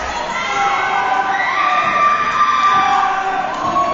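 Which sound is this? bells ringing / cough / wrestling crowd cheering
wrestling crowd cheering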